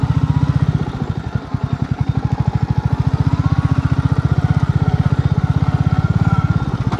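A Royal Enfield motorcycle thumps along a village dirt track, its engine pulsing in a fast, steady beat close by, with a brief dip in revs early on and clattering rumble throughout.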